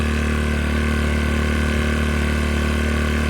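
A Sportsman inverter generator runs at a steady, loud, even drone while it warms up, with a constant low engine hum and no breaks.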